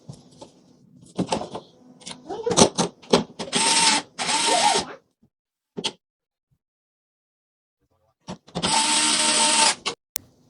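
Screwdriving small black screws into a smart fingerprint lock, with several bursts of whirring driver noise separated by tapping and handling clicks, close up.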